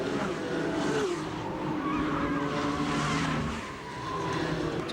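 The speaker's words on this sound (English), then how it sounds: "That is an expensive sound as they grind to a halt along the front straightaway wall." An ASA stock car at Salem Speedway grinds sideways along the front-straightaway wall to a stop after contact, making a sustained scraping, rumbling roar mixed with engine and tire noise, loud and continuous for several seconds.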